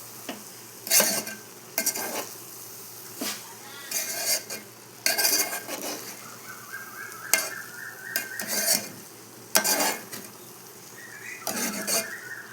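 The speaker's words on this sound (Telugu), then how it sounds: "మొత్తాన్ని ఒకసారి కలిపేసుకోవాలి." A spoon scrapes and clinks against a pot while tomato dal (thotakura pappu) with spices is mixed, giving irregular close strokes over a soft background sizzle.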